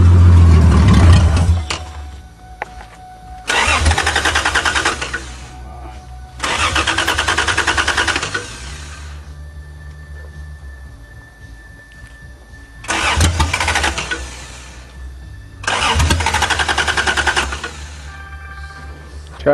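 A 1982 Toyota Cressida engine cranks over and over in four separate bursts, each a loud, close whirring starter run, with a rough engine hum idling faintly between attempts.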